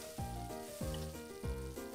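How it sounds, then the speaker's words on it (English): Sausage frying in a pan in the Cooking Mama video game, a synthetic sizzle with three rhythmic tonal swooping cues repeating in a steady pattern, faint and alone. "I think we should cook the sausage first."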